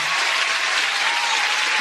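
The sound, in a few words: applause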